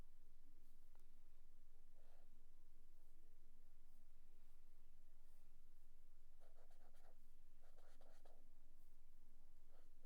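A marker drawn across paper while swatching colours, faint scratchy strokes in a few short separate bursts over a low steady hum, close and quiet.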